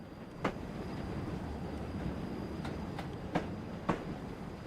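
Steady low drone of a Class 60 diesel locomotive engine in Train Simulator, a continuous rumble with a few sharp clanks or clicks standing out over it.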